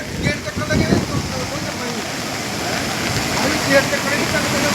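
Flood water roars over the overflowing Madhopur dam near Pathankot during heavy rain, a loud, continuous rushing wash heard up close, with people talking over it.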